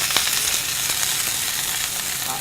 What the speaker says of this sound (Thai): เราจะไปทำให้เจ้าดอกกระหล่ำสุกเล็กน้อยนะครับซึ่งตอนนี้ผมใส่น้ำมันลงไปแล้วนะครับ